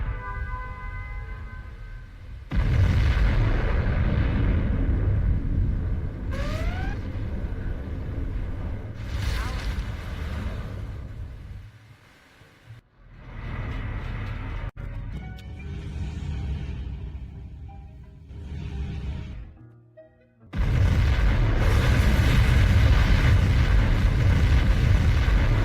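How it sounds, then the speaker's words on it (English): A nuclear missile launch and explosion in Generals Zero Hour: a deep roaring launch rumble, short pauses, then bursts of heavy blast noise and a final loud sustained boom, with brief rising tones between. "We have launched our nuclear missile."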